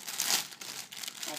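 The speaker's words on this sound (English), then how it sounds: "First, you just have to kind of like rip this off" Plastic packaging around an American Girl Hawaiian doll dress is ripped open with a close, brief crinkling tear lasting about a second.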